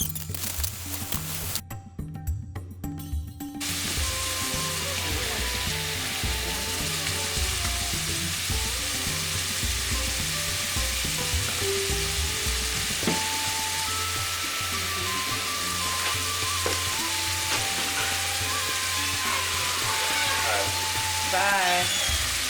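Onion pieces fry and sizzle in a hot pot for corned beef and cabbage, a steady close hiss with small crackles running throughout and a brief quieter gap near the start.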